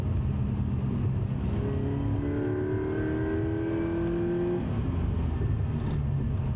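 A Scion FR-S race car engine drones loudly and steadily on the wet Thunderhill East track, its pitch climbing through gear shifts with constant road and wind roar.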